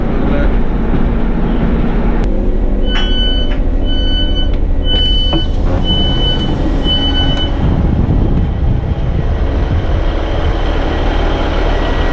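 A train on the Heart of Wales Line rumbles steadily past at close range, with faint wheel squeal and brief tonal whines riding over the continuous rolling noise, while voices speak briefly in the background.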